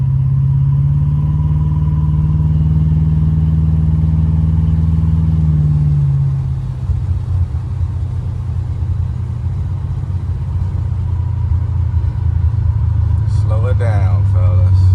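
A 1986 Buick Regal G-body with a big-block engine and Holley EFI. A loud, close cabin drone holds steady, then drops to a rougher, lower rumble while driving, and a short burst of other noise comes near the end.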